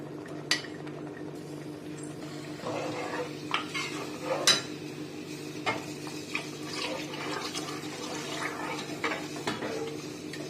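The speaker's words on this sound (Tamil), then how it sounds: "இப்போ தண்ணி ஊற்றிடலாம்." Water poured into a cooking pot of sautéed curry leaves for parotta salna, a steady watery wash mixed with occasional clinks of utensils against the pot over a low background hum.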